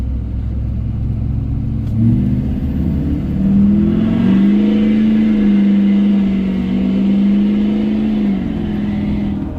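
A stock diesel pickup truck with an aftermarket exhaust accelerates hard, its deep rumbling engine rising in pitch and holding a loud, steady drone close by before easing off.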